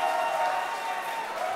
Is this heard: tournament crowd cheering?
yes